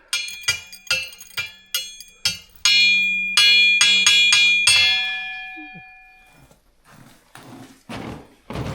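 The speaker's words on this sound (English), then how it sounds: "time to ring the bell" A metal bell at an old logging camp chow hall is struck repeatedly, ringing in a series of sharp clangs that grow into sustained, overlapping tones before fading, followed by scuffing and faint movement.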